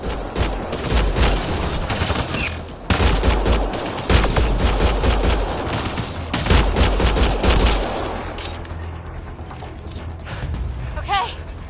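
Heavy gunfire rattles through a Mass Effect Andromeda firefight, loud sustained automatic bursts with deep booming hits, easing toward the end, while people shout and talk during the fight.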